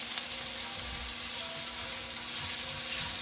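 Stew chicken with squash and tomato paste fries in a pot with a steady, hissing sizzle, close and even, while faint low stirring bumps sit beneath it.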